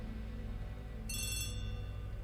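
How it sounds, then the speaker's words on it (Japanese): A telephone rings in the video game Agatha Christie - The ABC Murders. One short, clear bell-like ring starts midway over a low background hum, with no talk. "あ、電話だ。"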